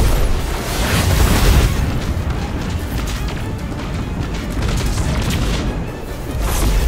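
Missile explosions in the video game Destiny 2 make a dense, continuous rumble of booms and blasts with rolling low-end roar, loud and sustained without clear separate hits.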